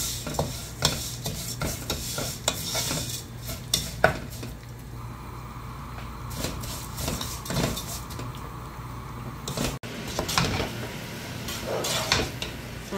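Vermicelli stirred and toasted in a pot with a spoonful of ghee and two spoonfuls of vegetable oil: continuous sizzling under frequent scraping and clinking spoon strokes on metal, close and fairly loud.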